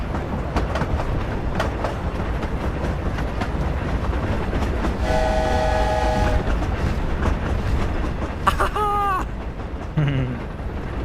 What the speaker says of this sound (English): There's the Hogwarts Express.